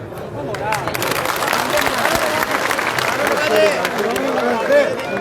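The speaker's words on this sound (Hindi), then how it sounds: "जोरदार तालियों के साथ डॉक्टर अनिल जी और आए और अपने विचार रखें" Crowd applause welcoming a speaker at a BJP candidate's election rally in Malkheda, steady clapping from a gathered audience under a voice over the loudspeaker.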